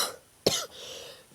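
A single short, sharp cough, fairly close, in an otherwise quiet setting.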